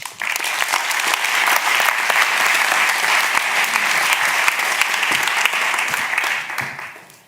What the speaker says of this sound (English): Please give Emer an applause